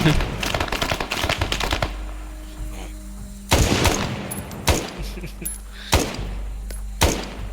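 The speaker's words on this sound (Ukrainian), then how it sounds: "А чого по мені всі стріляють?" Bursts of rapid automatic gunfire in the video game Arma 3 S.O.G. Prairie Fire, loud and close, with a long volley followed by several separate sharp shots and booming impacts.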